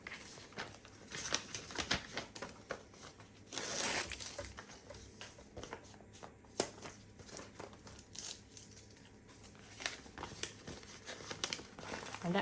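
Paper envelopes and banknotes rustle and crinkle in quick bursts as cash is counted and stuffed into budget envelopes, with soft zipper-like slides and crumpling at close range, quiet and continuous throughout.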